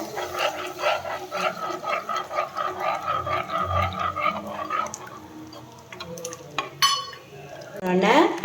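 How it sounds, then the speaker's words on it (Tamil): A spoon stirs a cup of maida flour and a cup of milk together in a pan for white sauce pasta, making repeated scraping and clinking sounds close by, with some background noises. "இது மாதிரி நல்லா இதுமாரி கிளறி விட்டுக்கிட்டே இருக்கணும்"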